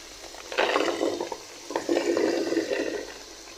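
Meat and fried vegetables stirred together in a pot, two bursts of wet sizzling and scraping separated by a short pause, close and fairly loud, no talking.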